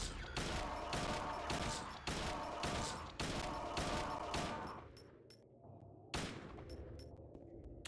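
Gunfire rings out in Silent Hill 2 as a player fires one sharp shot after another at a downed creature. There is a brief quieter gap before a final loud report.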